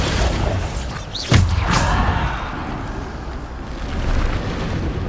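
A Bombarda blast spell in Hogwarts Legacy lands as a single sharp boom with a whooshing burst at about a second in, set against a steady rumbling game backdrop of combat noise and effects.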